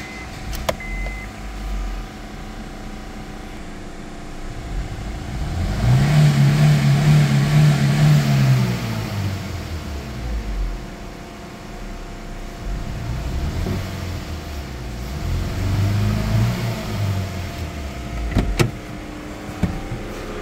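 A 2012 Honda City with a fault that makes it reluctant to rev is revved twice, each rise and fall a long, labored drone over a steady idle, loud and close.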